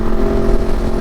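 A Kove 450 Rally motorcycle engine revs high in a loud, steady growl, close and sustained for a brief moment.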